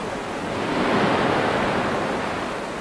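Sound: waves breaking on the beach of a ship test tank

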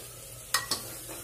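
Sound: mutton frying and being stirred in a pot

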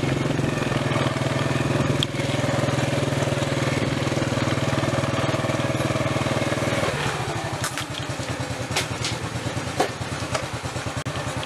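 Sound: motorcycle engine running

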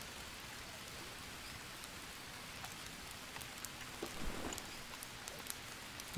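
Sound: rain in video game Green Hell

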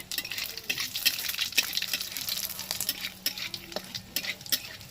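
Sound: frying radhuni spice seeds in oil for tempering

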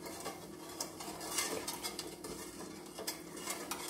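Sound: stirring milk pudding with sugar in a pot on the stove

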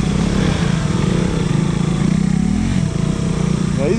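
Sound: motorcycle engine running

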